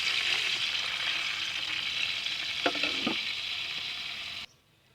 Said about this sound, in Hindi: घी हमारा गर्म हो गया। इसमें 1 गिलास हम पहले पानी डालेंगे।